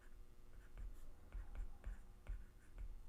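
Pencil or pen writing a mnemonic by hand on paper, quiet close scratching strokes in short bursts with soft taps between letters, no talk.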